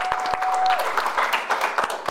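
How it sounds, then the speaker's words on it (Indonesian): Audience applause for a well-known Indonesian fashion designer, a short burst of many hands clapping with a few sharper claps close by, brief and lively. "Tepuk tangan dulu dong."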